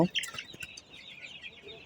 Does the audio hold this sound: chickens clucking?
yes